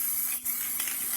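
Aerosol can spraying varnish in a garage, a steady close hiss lasting about a second with a brief dip partway through.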